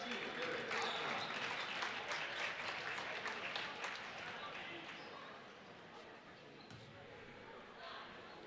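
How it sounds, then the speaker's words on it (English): Crowd applause and cheering fill a high school boys basketball gym, steady and loud at first, then easing slightly toward the end, with some voices mixed in. "A round of applause for the senior."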